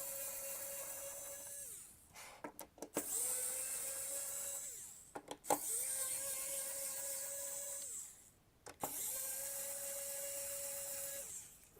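An electric screwdriver backs screws out of a Beelink SER8 mini PC in three long whirring runs, each broken by short clicks and pauses as the bit is repositioned, close up with no talking.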